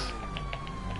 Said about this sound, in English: Now here's a police car. It's gonna cause me problems